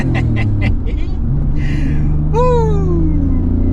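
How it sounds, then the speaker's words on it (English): A Nissan GT-R idles with a low, steady rumble, then its engine is revved in one quick rise that sweeps back down, loud and close, with a brief voice alongside. "maybe I can rev it here."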